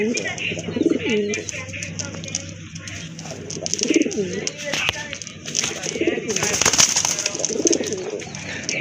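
Large Boro Payra Rajgolla pigeons coo in repeated low, throaty bursts at close range, with a few sharper chirps and brief noises over a steady background murmur.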